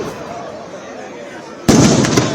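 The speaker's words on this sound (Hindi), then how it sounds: "रावण दहन हो चुका है पटाखों के जरिए।" A loud burst of firecracker bangs erupts suddenly near the end during a Ravana effigy burning, cutting sharply through a steady crowd murmur and background chatter.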